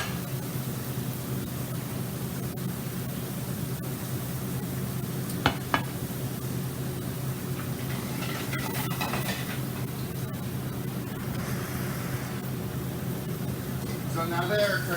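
Carnitas crisp in a hot pan at a culinary demonstration, giving a steady sizzle with occasional stirring scrapes under continuous talk.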